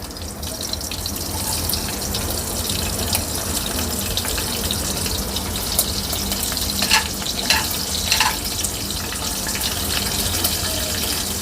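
Whole spices, bay leaf, cloves, cinnamon, black pepper, black and green cardamom, and chilli frying in hot oil in a pan for jowar pulao, giving a steady loud sizzle with a few brief crackling bursts near the end.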